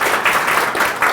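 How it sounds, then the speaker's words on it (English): An audience at a lecture breaks into applause, a brief, loud and fairly dense burst of clapping with no pause. "Give him an applause for Hiroshi Ishii."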